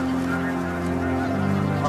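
Geese honking steadily in the Arctic for about two seconds, a dense chorus of calls at moderate loudness with continuous background noise.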